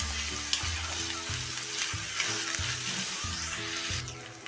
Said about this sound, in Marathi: आणि 1-2 मिनिटं आपण हा छान परतून घेऊया